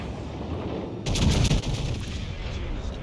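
Cannon fire from a battleship broadside in a naval video game: a burst of heavy booms and cracks clustered in the middle, loud and close, over a steady low rumble of background noise.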